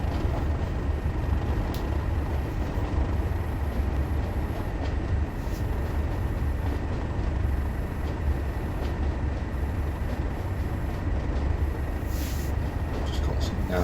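A Class 37 diesel locomotive in the Train Sim World video game rolls on with the throttle off, giving a dense, steady rumble of running gear and rail noise with faint clicks throughout.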